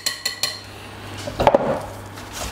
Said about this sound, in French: je retire ce qui reste sur le fouet